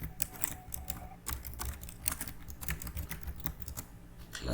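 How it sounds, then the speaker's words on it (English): Someone types on a computer keyboard in a quick, irregular patter of close, soft key clicks. The clicks come in short bursts with tiny pauses, and no one speaks. "let me just type something meaningful"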